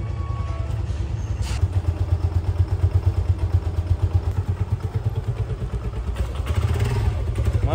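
A scooter engine runs close by with a steady, low, pulsing throb and some mechanical clatter, holding an even level throughout with no talking.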